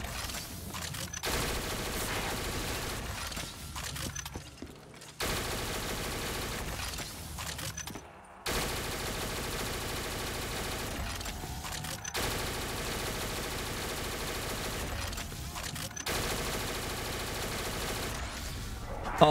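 Gunfire from a Barrett M82A1 rifle in a custom zombies video game, sustained bursts of rapid shots broken by short gaps, loud and close throughout.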